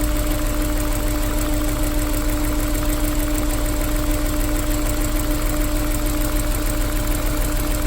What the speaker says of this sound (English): that's how it runs without injector 2 installed